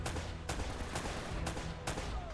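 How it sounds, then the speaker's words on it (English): Gunfire in Uncharted: Drake's Fortune, with sharp, loud shots cracking at roughly half-second intervals over a dense, constant game soundscape, no voice over it. "I'm just gonna keep shooting"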